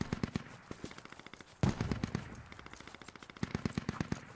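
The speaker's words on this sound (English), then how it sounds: "We're under fire from a HMG." Heavy machine gun fire in the tactical shooter SquadOps, steady rapid bursts with one louder burst partway through, moderately distant and faint.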